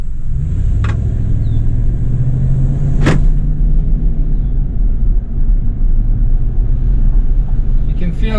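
A 2011 Ram 1500 Laramie pickup with a 5.7L V8 HEMI and automatic transmission drives along, a steady low cabin rumble with a rising engine drone, two sharp clicks, and someone talking over it.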